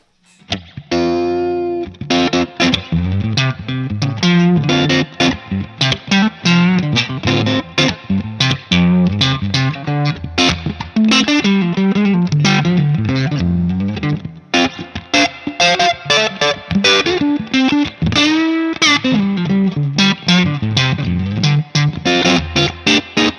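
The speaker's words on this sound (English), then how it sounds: "So you can get Leslie type tones with this thing." An electric guitar played through a JHS Artificial Blonde pedal, giving swirling Leslie-type rotary tones. Strummed chords and runs ring loud and continuous with a wobbling, modulated shimmer, and no talking.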